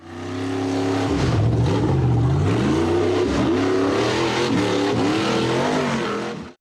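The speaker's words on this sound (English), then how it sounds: "When it turned and tried to accelerate straight up a short slope, the vehicle lost balance and tipped onto its side on the ground." An off-road buggy revs hard while accelerating up a short dirt slope: a loud, close engine whose pitch climbs, dips and climbs again in repeated surges, held continuously until a sudden cut-off.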